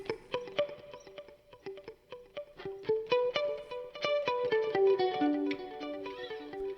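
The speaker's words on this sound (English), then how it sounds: "And then a plate reverb at the end, pretty low mix, but just enough to give it a little bit of ambiance." Electric guitar through a Line 6 POD GO Wireless multi-effects unit with a low-mix plate reverb, playing a clean staccato lead line of plucked notes that ring with light ambience, rising in density and ending on a sustained note.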